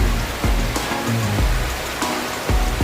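Heavy rain falling on a rainy morning in Dinahican, Infanta, a loud, dense, continuous hiss close by with a few dull low thumps.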